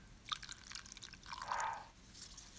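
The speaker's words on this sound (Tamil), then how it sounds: "தேவையான அளவு தண்ணி ஊற்றி" Water is poured over fresh rose petals sprinkled with salt in a bowl for homemade rose water, making faint patters and splashy drips with a brief fuller pour in the middle.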